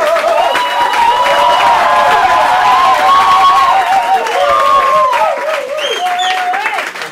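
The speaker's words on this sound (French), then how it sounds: "On applaudit plus fort que ça." Audience at an improv theatre show in a bar applauds and cheers loudly, a dense sustained wash of clapping and crowd voices that holds steady for several seconds before easing slightly at the end.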